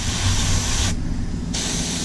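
A spray gun lays down an orange coating in a steady, close hiss that cuts out for about half a second midway and then resumes, over a low background rumble.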